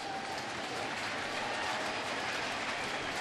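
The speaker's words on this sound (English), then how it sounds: "It's a nice hand from the crowd." Crowd at a Florida Marlins versus New York Mets baseball game giving a steady round of applause, a dense continuous wash of clapping from a large stadium audience throughout.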